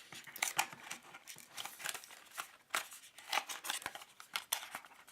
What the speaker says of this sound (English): we can, of course, pop the USB-C hub from its card tray packaging right here